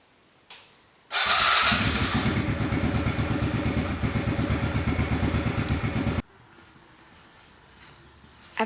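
Kawasaki KLX 110 dirt bike engine in a garage, starting after a short thump and then running at a steady idle with a rapid, even mechanical putter, close and loud, before cutting off abruptly into quiet.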